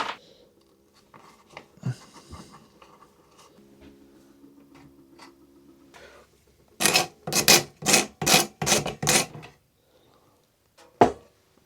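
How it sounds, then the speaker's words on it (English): Old wood being scraped clean with a hand scraper during a woodworking restoration, giving a run of about eight loud, rhythmic rasping strokes close up after quieter handling noises, then one final scrape, with no voices. "the scraping's a satisfying process"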